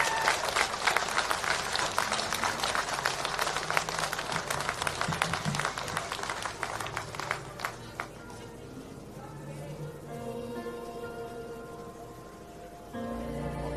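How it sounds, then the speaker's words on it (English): Applause from an audience for a brave performer, with many hands clapping loudly and evenly for about eight seconds before thinning out as a voice starts talking over the fading claps. "give her a massive round of applause, please"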